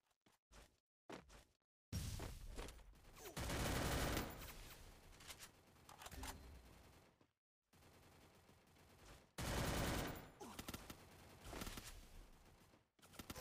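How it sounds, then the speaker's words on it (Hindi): Bursts of rapid automatic gunfire from the Free Fire mobile battle game, loud clustered volleys separated by short silent gaps, with no speech. "चारों तरफ से मेरे को गोली पड़ने लगी थी"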